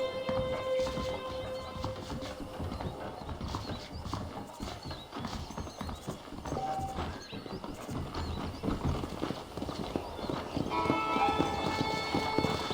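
Horse hooves clip-clop steadily in the video game Red Dead Redemption, a continuous rhythmic trot up close mixed with game ambience and occasional soft tones.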